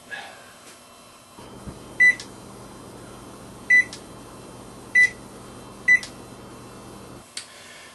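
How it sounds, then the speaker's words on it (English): A kitchen oven set to preheat gives four short, clear electronic beeps over a steady fan hum that runs most of the clip, then a final softer beep after the hum stops. "we'll set up the oven to preheat at 430 Fahrenheit"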